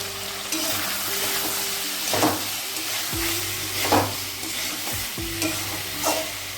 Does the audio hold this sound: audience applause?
no